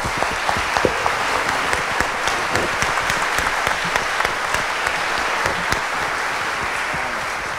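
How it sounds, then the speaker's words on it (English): Audience applause for four panelists at an end-of-life panel discussion, a dense, steady wash of many hands clapping that holds evenly from start to finish. "I want to thank these 4 panelists for getting us started with a quick round of applause."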